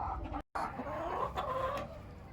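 Bantam hens clucking softly in a coop with a hen hatching eggs, a steady low run of murmuring clucks and short calls, close by and without talk.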